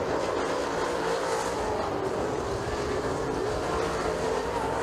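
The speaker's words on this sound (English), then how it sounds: "Weiser coming off turn 2, headed down the back straightaway one final time" A dirt late model race car runs down the back straightaway at a speedway, with a broad, steady engine roar and track noise at a distance, blended with crowd ambience.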